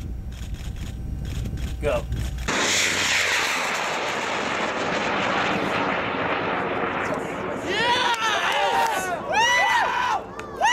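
An amateur rocket ignites with a sudden loud roar that rushes away into the distance, while a crowd shouts and cheers near the end and whistling tones appear.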